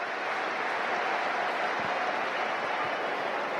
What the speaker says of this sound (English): we're hearing some applause from the home crowd